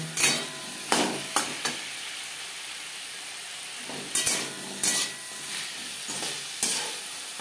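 Brinjal dropping into hot oil in a pan alongside slit green chillies for a spinach ghonto, giving several sharp bursts of sizzling with quieter frying hiss in between, no talking.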